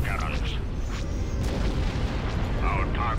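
Heavy booming blasts and rumbling gunfire from laser cannons in the Star Wars Empire at War video game roll on continuously, with short voiced snippets at the start and end.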